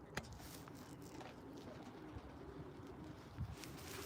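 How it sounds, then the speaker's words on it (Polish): A red Janssen Vos line racing pigeon coos softly in a loft, low murmuring coos recurring under a steady background hiss, fairly faint and without talk. "Linia gołębi Jansen Wos, tutaj czerwony, ładny, gruchowy linia Playboya."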